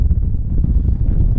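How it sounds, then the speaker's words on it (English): Strong, buffeting wind at an airport pounding the microphone, a loud low rumbling roar that surges and dips unevenly without a break. "it's very, very buffeting strong wind"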